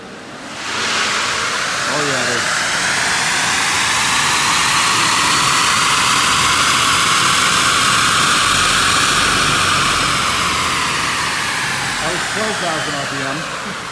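A Tesla Model S 75D's electric motors run on a dyno, making a loud, steady whirring roar that swells in after a second and holds for about thirteen seconds before easing slightly.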